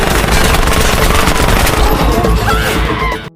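Rapid gunfire rattles out in a dense, continuous burst of repeated shots during a fight, loud and close, then cuts off abruptly at the end.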